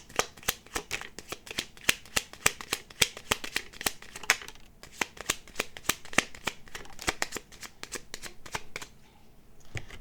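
Tarot cards are shuffled repeatedly in quick, crisp riffling bursts, close and fairly quiet, with short pauses between shuffles and no talking.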